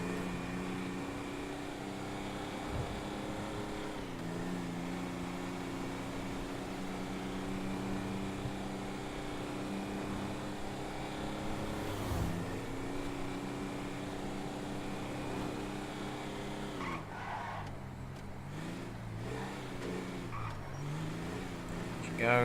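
A car drives in GTA V Online with a sustained engine drone that shifts pitch as it accelerates and changes gear, mid-level and continuous, with some talking over it.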